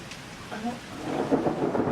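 A thunderstorm during a tornado warning: thunder rumbles while steady rain hisses throughout a short, fairly loud stretch.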